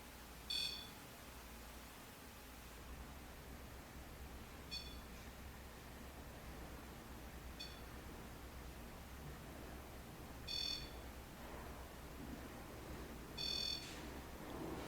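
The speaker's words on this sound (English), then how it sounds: "after we walk away and down the stairs, the REM pod begins to alarm" A REM pod ghost-hunting device sounds short, high electronic beeping bursts, spaced irregularly a few seconds apart, over a steady quiet hiss in a haunted mansion.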